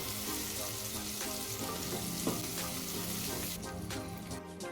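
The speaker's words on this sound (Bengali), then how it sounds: "এবার আমি এর মধ্যে একটা ডিম ফাটিয়ে দেব। ডিমটাকে ভালো করে মিক্স করে দেব।" An egg sizzles loudly in a pan for egg handi, a dense, continuous close frying hiss with faint stirring clatter near the end.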